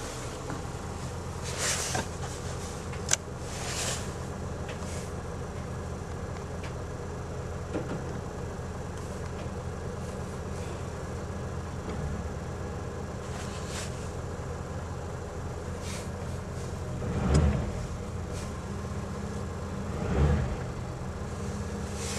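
A 2002 Chevrolet Cavalier engine idles steadily after a cold start, a low continuous rumble heard up close with a couple of brief louder swells and small knocks, no talking.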